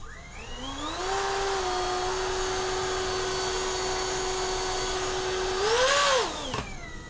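A small fan motor on a mini 3D printed hovercraft spins up to a steady, whining hover at low throttle, holding a constant pitch before briefly revving higher and cutting off abruptly.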